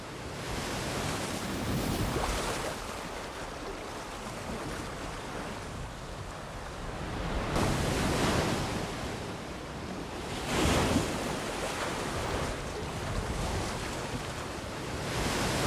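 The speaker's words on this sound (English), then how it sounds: "just the sound of the sea isn't strong enough on its own to evoke the emotion" Sea waves in the Saving Private Ryan beach scene with no music: a continuous roar of surf with slow swells that crest and wash in every few seconds, broad and enveloping, with wind noise mixed in.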